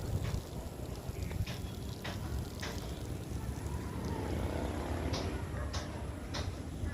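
Steady wind buffeting a microphone in open grassland near the sea, a low rumbling roar with occasional gusty bursts, no clear voices standing out.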